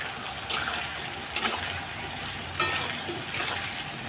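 Water lily and paneer curry ingredients frying in a pan in a home kitchen, a quiet steady sizzle with occasional louder stirring scrapes and clatters, no talking.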